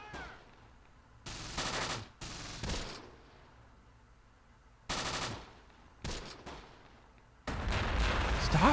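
Naval gunfire support in the war game Close Combat: The Bloody First on D-Day at Omaha Beach: several separate bursts of loud rapid firing and blasts, each a second or so long, with quiet stretches between and a longer sustained barrage at the end.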